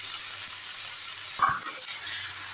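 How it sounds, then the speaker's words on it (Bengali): Eggplant, beans and mixed vegetables being stirred with spices in a frying pan, a steady soft sizzle with a brief scraping stir in the middle, close and without talk. "সবজিগুলো সব মিশিয়ে দিলাম"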